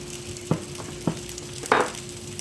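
Potato cakes frying in a pan give a soft, steady sizzle under a constant low hum, punctuated by three brief taps or scrapes of a utensil, the last one louder.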